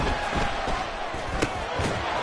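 Football stadium crowd noise during a big play, a dense, steady roar of many voices at a consistent loud level, with a brief sharp peak partway through and scattered shouts within the din.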